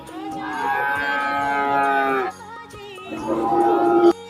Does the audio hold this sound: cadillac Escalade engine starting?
no